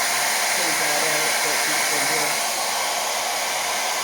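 A hair dryer blows steadily at close range, drying fresh white paint on a wooden birdhouse, a loud continuous rushing roar that fills the whole stretch with no pauses.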